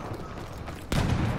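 Gunfire in Battlefield 1 erupts as a sudden loud burst of overlapping shots partway through, following a low rumbling background.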